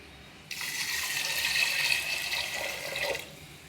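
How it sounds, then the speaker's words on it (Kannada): Water poured from a glass into a cooking pot while making bisibelebath, a steady splashing pour of about three seconds that starts abruptly and ends in a slightly gurgling tail, close by with no talk. "ಇದಕ್ಕೆ ಒಂದೆರಡು ಗ್ಲಾಸ್ ನೀರು ಹಾಕ್ಕೊತೀನಿ"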